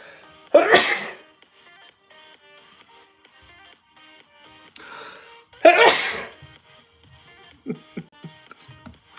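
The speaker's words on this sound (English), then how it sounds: "I'm going to sneeze real quick." Two loud, close sneezes several seconds apart, with quiet shuffling and a faint electronic tone running underneath between them.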